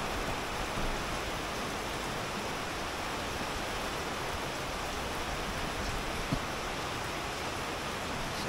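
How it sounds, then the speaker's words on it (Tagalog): Heavy typhoon rain during Typhoon Egay, a steady dense hiss of downpour on surfaces that holds constant throughout, with no talking. "Malakas rin siguro ang ulan kasi malawak ang scope na itong ano eh, itong bagyo."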